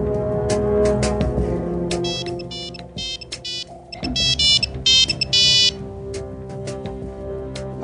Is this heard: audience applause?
no